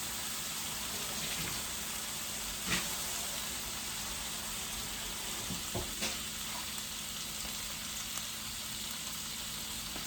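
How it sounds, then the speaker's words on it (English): Shrimp sizzle steadily in a hot pan, a constant crackling hiss with a couple of faint clicks of utensils, no talking. "Let's put them into the pan for a nice sizzle."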